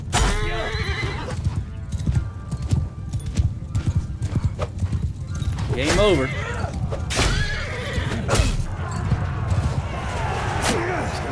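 Hoofbeats clip-clop in a steady battle rush in Mount & Blade II: Bannerlord, with several horses neighing sharply over clashing combat noise while someone talks.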